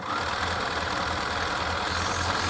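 A sewing machine chain piecing quilt block sections, running as a steady, continuous motor hum and rapid needle rattle with no pauses.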